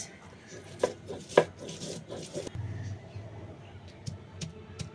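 Leaves are crushed on a flat grinding stone. Rough rubbing and scraping strokes come close by, with a few sharper knocks early on and a low grinding rumble after, and faint voices murmur in the background.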